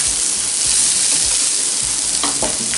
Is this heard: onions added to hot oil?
yes